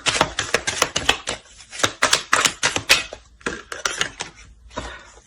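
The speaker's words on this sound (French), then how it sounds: "Et je mélange le jeu." A deck of cards shuffled by hand: rapid, close, crisp bursts of riffling and tapping in quick clusters with brief pauses between, loud and unaccompanied by speech.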